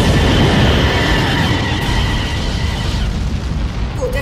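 A loud, booming explosion blasting a hole in an audio drama, with a dense rumbling roar that fills the clip and slowly decays, close and powerful.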